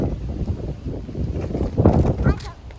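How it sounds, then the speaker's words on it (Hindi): Wind blowing outdoors, with rumbling gusts buffeting the microphone that rise and fall, growing strongest toward the end, and muffled voices underneath. "इतनी अच्छी हवा चल रही है ना वैसे"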